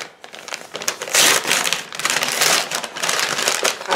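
Crinkly plastic packaging around a mascara being unwrapped and crumpled by hand, loud close rustling and crackling in repeated bursts with no talk.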